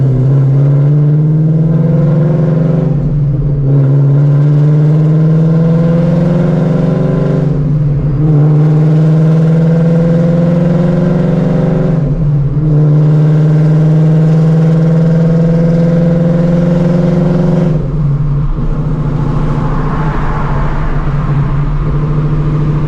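A 900 hp Shelby GT350 accelerates hard through the gears, its engine note rising in loud, rough sweeps with brief drops at each of several shifts before easing off near the end.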